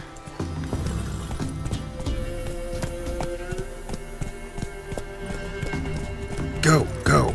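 Horse hoofbeats clip-clop steadily while riding in the video game Witcher 3: Wild Hunt, a continuous rhythmic trot over game music, with a brief louder burst near the end.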